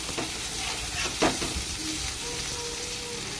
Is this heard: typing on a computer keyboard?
no